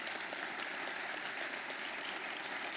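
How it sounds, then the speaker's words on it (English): Steady, dense applause from an audience at a mayoral candidate forum, even in loudness and continuous throughout with no talk over it. "Would you please give a nice round of applause for being with us this morning?"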